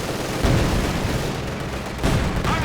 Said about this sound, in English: And comes under fire there from the field gun, needs to pull back.